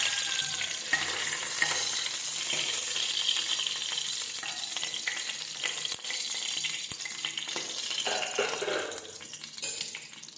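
Dried red chillies fry in a pan, making a continuous nearby hiss and crackle with faint stirring and clinking, and no one speaks.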